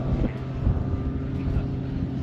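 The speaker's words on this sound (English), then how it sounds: "Wait till you hear this thing. It's a Yamaha Apex motor." A Yamaha Apex engine powers a short-takeoff plane, giving a steady, rough droning hum with faint wind rumble and no speech.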